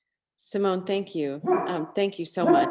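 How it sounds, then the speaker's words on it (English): A dog barks repeatedly in the background of an online meeting, several sharp yaps in quick succession, mixed in with someone talking. "Sorry about the dog that you hear in the background."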